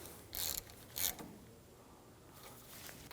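A ratchet snugs down the ABS sensor bolt on a 2005-2015 Toyota Tacoma steering knuckle, giving two short bursts of quick clicking close up with quiet pauses between them and no talk.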